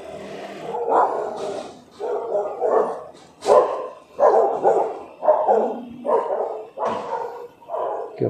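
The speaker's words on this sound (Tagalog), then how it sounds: "Cute ng aso. Alagang-alaga." A dog barks and growls repeatedly in short, uneven bursts, close and loud, with yips mixed in.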